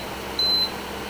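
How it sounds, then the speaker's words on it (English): A single steady electronic beep from a Bedred dehumidifier as its middle quiet-mode button is pressed, lasting about a quarter second over a low, constant room hum. "beep."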